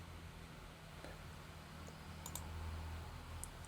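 Faint computer mouse clicks, a few separate sharp taps spread over several seconds against a quiet low hum.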